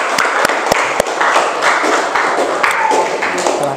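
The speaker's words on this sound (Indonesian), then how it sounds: "Kita beri tepuk tangan untuk Pangeran Diponegoro kelompoknya." Students in a classroom clap for a presenting group, with a few sharp, separate claps at first, then a short burst of looser applause and some murmured voices.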